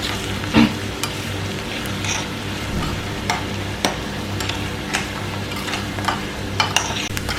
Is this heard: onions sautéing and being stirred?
yes